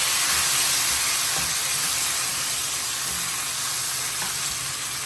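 Dried chilli, onion and garlic, with tomato added, sizzling and frying in a pan while being stirred, a loud, steady hiss up close with faint scraping.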